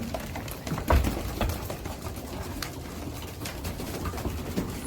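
Pigeons coo softly in a loft, with low murmuring calls scattered over a steady background of shuffling and light patter, fairly close and never loud.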